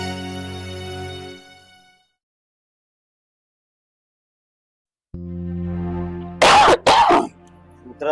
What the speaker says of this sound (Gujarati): ઉધરસ થઈ ગઈ છે.